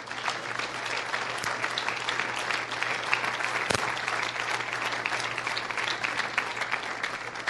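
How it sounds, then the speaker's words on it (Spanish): A church congregation applauds during a Spanish-language worship service, a continuous wash of clapping held evenly for several seconds, with one sharp knock partway through. "¿Cuántos aplauden al Señor?"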